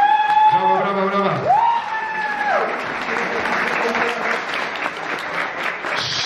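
Audience applause for a band at a rock competition final in Białystok, a steady wash of clapping that builds after a few loud sustained voice tones at the start.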